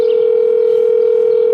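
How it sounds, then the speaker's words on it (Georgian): A continuous, steady telephone dial tone plays over a speakerphone, holding one unbroken pitch at an even level with no voices. "ვიღებთ ტელეფონს, ურეკავთ დათას, ვრთავთ სპიკერზე"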